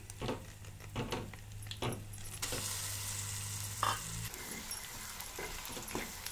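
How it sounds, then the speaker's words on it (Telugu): Coriander tamarind chutney sizzles in hot oil with cumin, dried red chillies, garlic and curry leaves, crackling steadily while a spoon stirs and clinks against the pan. "ఒక 2 నిమిషాల పాటు పచ్చడిని ఎలాగో నూనెలో ఉడికించాలండి"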